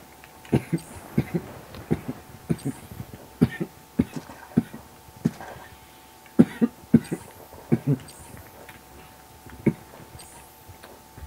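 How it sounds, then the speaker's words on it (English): A person coughs repeatedly in a string of short, sharp, dry bursts at close range. The bursts are spread over several seconds with brief pauses between them, over a faint steady hum. "Did not mean to cough like that, guys."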